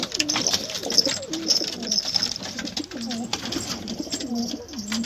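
Kesh pigeons coo repeatedly at close range, soft rolling throaty calls in overlapping phrases, with light rustling and faint background chatter.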